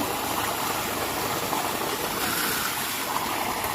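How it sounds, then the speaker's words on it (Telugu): A loud, continuous rush of water pours steadily from a borewell's 7.5 HP submersible pump pipe, broadband and unbroken, with a faint engine-like hum beneath. "నీళ్ళు అయితే చాలా బాగా వస్తున్నాయి."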